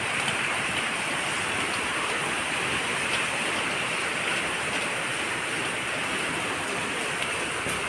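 Steady rain pours down outside a Kerala home beside hibiscus and fig plants at dusk, a dense, even wash of falling water that holds constant throughout with no voices.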